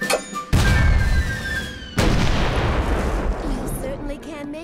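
Heavy artillery fire booms in two loud, close blasts, each followed by a long rumbling decay, with faint voices and whistling sounds underneath.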